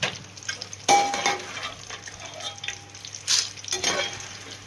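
Plantain pieces sizzle softly in hot oil while a ladle stirs and scoops them from the pan, with scraping clinks and bursts of frying.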